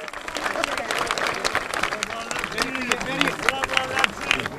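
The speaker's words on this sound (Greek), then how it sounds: "μέλη της οικογένειας του Αλέξη Καλοκαιρινού μετέτρεψαν με το χειροκρότημα και τα συνθήματα σε γιορτινό το κλίμα στην Πλατεία Ελευθερίας κατά την άφιξή του." A crowd in Eleftherias Square in Heraklion applauds at a new mayor's arrival, with dense, continuous clapping and raised voices mixed into the noise.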